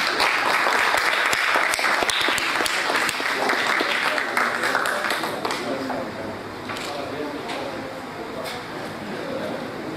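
An audience at a formal heraldic ceremony in São Paulo applauds loudly, the clapping steady then easing slightly to a softer, continuing round.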